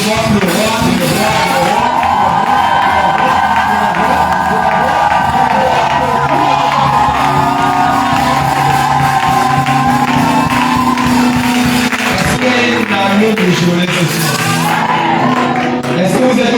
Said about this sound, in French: Poussez les cris de joie pour le roi des rois.